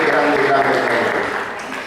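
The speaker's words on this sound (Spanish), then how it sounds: "Fuerte el aplauso." Church congregation applauding after a worship song, a dense steady wash of clapping filling the space and easing off slightly toward the end.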